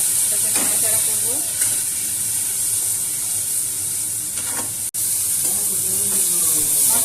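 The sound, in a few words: stirring frying masala with coriander powder and a little water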